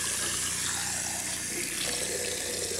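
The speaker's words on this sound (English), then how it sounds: "add some water" Water runs steadily from a tap into a container, two cups measured out for a blended recipe, a continuous close splashing pour with no talk over it.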